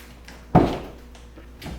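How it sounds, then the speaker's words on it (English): The door of a 2020 Dodge Challenger Widebody Scatpack unlatches and opens with a single sharp, close clunk, followed by faint rattles. "Okay, open the door."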